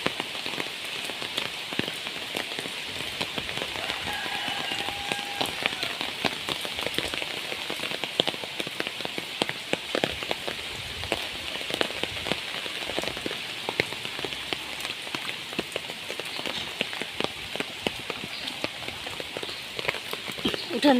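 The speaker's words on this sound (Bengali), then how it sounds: "বৃষ্টি পড়ছে, সেই সাথে সাথে আমাদের গাছে অনেক আমও পড়েছে।" Heavy rain during a storm pelts a yard and surfaces in a dense, steady patter with scattered sharper drops, and a voice speaks now and then over the downpour.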